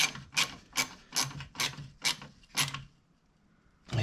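A bolt being turned into a plain plastic hole on a Ford Focus Estate handbrake cable mount, cutting its own thread as it goes: a quick series of about seven close, ratcheting grinds, then quiet.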